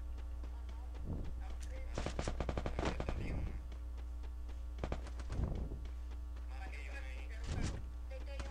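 Automatic gunfire in a shooting video game, several short rapid bursts scattered over a constant low hum, moderately loud and close, with no talk over it.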